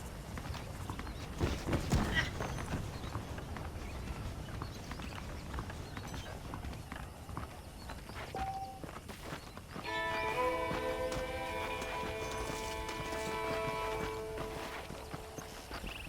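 Horse hooves clip-clop steadily in Red Dead Redemption gameplay, a continuous rhythmic walking beat with some louder hoof strikes early on, joined later by sustained musical tones.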